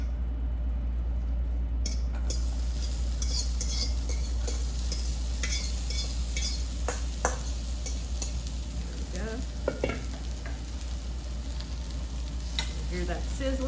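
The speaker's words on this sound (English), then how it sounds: "Hear that sizzling." Okra frying in a pan sprayed with a little oil, giving a constant close sizzle with occasional clinks and scrapes of the pan being handled and shaken, no talk over it.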